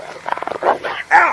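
A dog barks a few times in an audiobook dramatization, short sharp yaps close by, overlapping with voices talking in a children's adventure scene.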